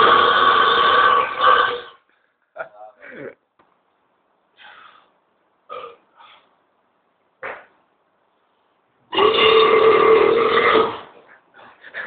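A person lets out massive, really loud burps: two long, raspy belches at the start and end with short grunts and gulps in between, close and alone.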